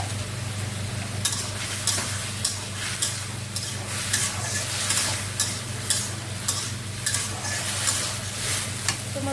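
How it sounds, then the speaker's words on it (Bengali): Onions frying in a pan over steady low hum, a continuous sizzle with repeated scraping stir strokes roughly every second, close and moderately loud, no talk. "পেঁয়াজ দিয়ে দিলাম"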